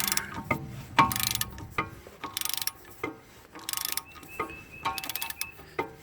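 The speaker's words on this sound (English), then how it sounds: "So now wrench on this a little bit, and that will further push it onto the stub." Wrench ratcheting on the rear wheel bearing hub of a VW MK4 Jetta, producing close, short bursts of rapid clicking with metallic clanks in between, no talking.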